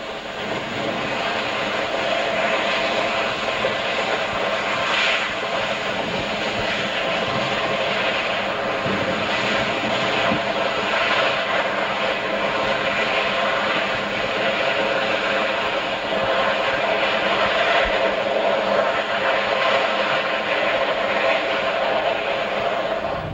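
Union Pacific gas turbine locomotive working with GP35 helpers, passing at track speed with a loud, steady turbine roar and rumbling wheels that hold throughout.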